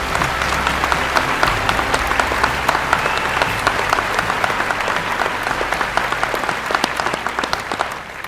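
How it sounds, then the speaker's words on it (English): A large audience applauds steadily at a police swearing-in and promotion ceremony, dense sustained clapping filling the room before it begins to thin at the very end. "more round of applause"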